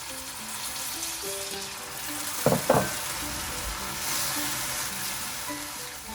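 Tom yum paste sizzling in oil in a pan, a soft steady frying hiss, with a brief splash and a surge of sizzle as water is poured in, then cooking continues at a moderate level.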